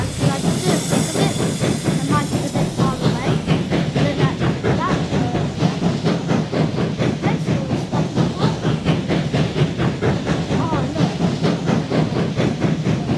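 Continuous rhythmic hissing of a steam locomotive in a Thomas the Tank Engine video game, puffing evenly and loudly throughout with a faint rattling beat underneath.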